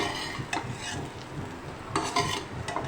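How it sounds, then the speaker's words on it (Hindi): Spoon stirring skillet potatoes mixed with plain tomato ketchup in a pan, a steady soft scraping and gentle sizzle with a few louder scrapes against the metal, close and without talk. "अब ये डाल के अब हम इसे खूब अच्छी तरह मिक्स कर लेंगे।"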